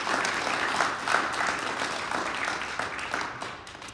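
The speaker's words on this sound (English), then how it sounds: "can we just have a quick little round of applause for Mr. Rabaska?" Audience applause at a school speech competition, a steady, dense wash of clapping from a seated crowd that holds for nearly four seconds before tapering slightly at the end.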